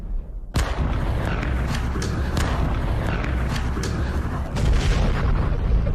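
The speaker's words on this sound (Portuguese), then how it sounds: "Os mísseis explodiram." Ballistic missile explosions in Ukraine: a sudden heavy boom breaks the quiet, then a loud, dense rumble of blast noise rolls on continuously, with a few sharper cracks and a second surge near the end.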